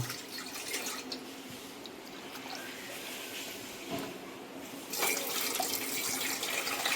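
Water for an aloe vera and flaxseed hair gel is poured into a vessel, a steady trickling and splashing that turns louder and fuller for the last couple of seconds, with no talk.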